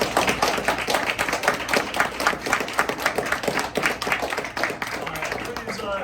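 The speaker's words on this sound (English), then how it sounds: "Please join me in a round of applause for our panelists." An audience at a public forum panel event applauds the panelists, a dense, sustained burst of clapping from a room full of people, loud and close throughout.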